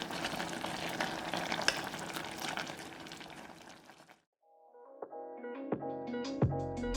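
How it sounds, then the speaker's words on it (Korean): Ripened kimchi simmering uncovered over medium-low heat, a steady bubbling sizzle for about four seconds, then a brief lull before scattered clinks and stirring knocks in the pan. "뚜껑 열고 중약불로 자작하게 졸여줬다"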